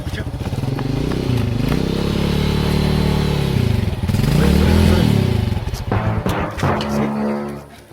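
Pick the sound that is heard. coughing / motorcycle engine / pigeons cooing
motorcycle engine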